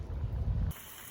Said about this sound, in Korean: 와, 바람 진짜 똥바람 너무 무섭다